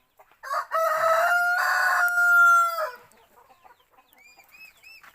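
A native rooster on a small backyard chicken farm lets out one loud, close crow, followed by quieter clucking and chirping from native chickens nearby.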